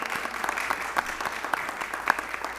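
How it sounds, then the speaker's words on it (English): A council meeting audience gives a round of applause, steady crisp clapping from a roomful of people with individual sharp claps popping out, fairly close and loud throughout. "I'll give these folks a round of applause."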